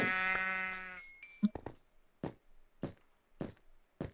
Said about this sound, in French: j'ai trouvé le dernier mouton pour faire un lit